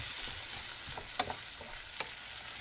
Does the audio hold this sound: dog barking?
no